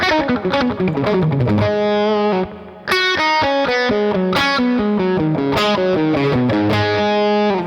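A distorted electric guitar plays quick, flowing runs of notes in a rolling triplet feel, loud and up close, with a brief break partway through.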